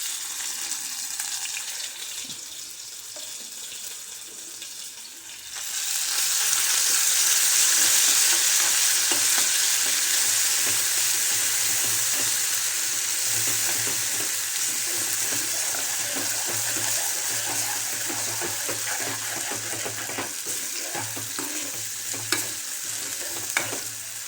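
Drumstick pods with masala fry and sizzle loudly in hot oil, the hiss surging as they are stirred, with scraping and clinking of a ladle throughout.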